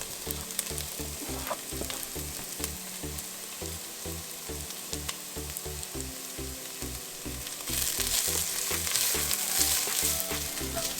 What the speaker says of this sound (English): So the garlic and the cumin have been frying in here for about 2 minutes